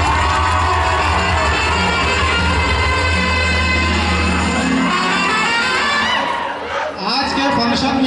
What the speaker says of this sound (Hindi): फिर एक बार तालियों।